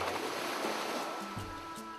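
Waves washing onto a beach where plastic litter is being cleaned up, a steady broadband surf wash filling the scene with a few low tonal hums toward the end.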